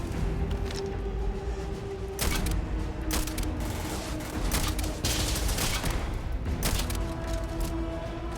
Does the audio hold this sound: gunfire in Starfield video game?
yes